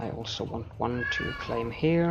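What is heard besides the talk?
cat meowing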